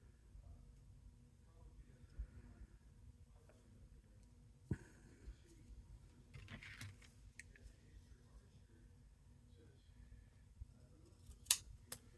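Scissors snip through paper card while making greeting cards from premade backgrounds, a handful of faint, sparse cuts spread over a quiet room with a soft ticking tap or two.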